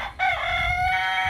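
A chicken's drawn-out, loud call rings out close by, with a rooster-like crowing quality and no voices present.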